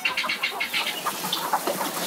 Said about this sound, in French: Pintades, poulets, canards, il élève 2000 volailles